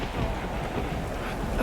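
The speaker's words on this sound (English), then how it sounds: "Without warning, a furious storm came up on the lake, so that the waves swept over the boat." A storm on a lake with rain and thunder, a dense continuous hiss of rain over a deep low rumble, steady and fairly loud throughout.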